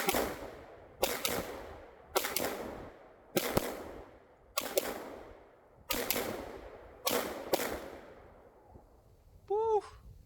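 A handgun fired through a big window fires a full magazine, seven sharp shots spaced about a second apart, each with a short echoing tail, followed by a brief tonal chirp at the end.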